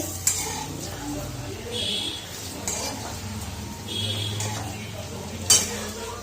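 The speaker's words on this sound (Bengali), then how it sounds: "এইভাবে আমি সবগুলো ভেজে নেব।" Soft sizzling of bread chicken rolls frying in oil, with a few scraping stirs and a sharp clink of a utensil against the pan.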